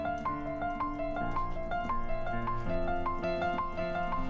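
A repeated three-note instrumental figure loops steadily with even, plucked-sounding attacks at moderate volume, with no voices.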